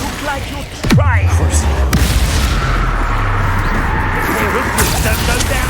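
A Confringo blast spell explodes in the Hogwarts Legacy video game as a sudden loud boom followed by a sustained low rumble, with sharper bursts later, under a speaking voice.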